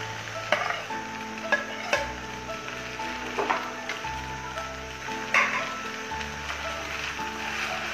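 A spatula scrapes and stirs chow mein noodles with fried egg in a sizzling pan, with repeated clacks against the metal over a steady frying hiss.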